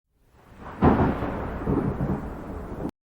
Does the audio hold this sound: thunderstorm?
yes